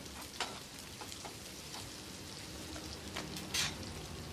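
Onions fry in a pan for bisi bele bath, giving a steady, quiet sizzle with a few brief crackles and spatters, close by and with no talking.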